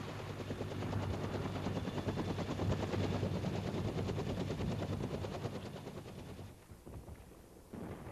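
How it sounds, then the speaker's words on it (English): Military helicopters bringing in bridging equipment during infantry combat training thump loudly in a steady pulsing rhythm, then fade toward the end, with distant gunfire mixed into the roar. "helicopters bring in bridging equipment"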